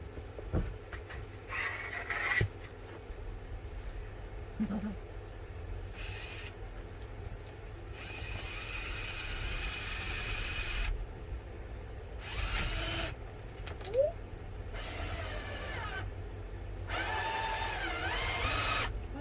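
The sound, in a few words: drilling screws into sheet metal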